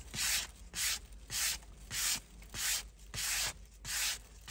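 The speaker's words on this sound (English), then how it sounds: "Give that a little bit of a light sand." A leather steering wheel from a Jaguar XK8 is lightly hand-sanded during restoration in quick, even back-and-forth strokes, about eight close, soft rasping passes with no talk.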